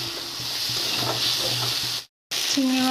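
Greens tossed into a pan with fried prawns, salt and turmeric give a loud, steady stir-fry sizzle and hiss with soft stirring scrapes. The sound breaks off briefly before the sizzling resumes.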